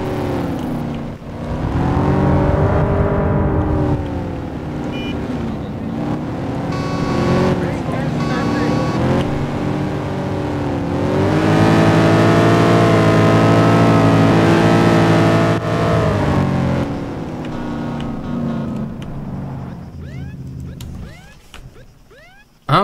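Car driving in the video game Arma 3, a loud, continuous engine drone rising and falling as it accelerates and shifts, sustained for most of the stretch before fading out near the end, with talking over it.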